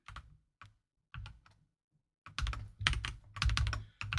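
Typing on a computer keyboard, with short bursts of close key taps that build into a denser, louder run of rapid clicking toward the end.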